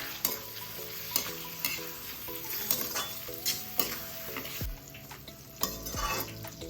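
Tomatoes with turmeric are stirred in a pan, with repeated rhythmic spatula scrapes and knocks against the metal over a faint sizzle, close and fairly quiet.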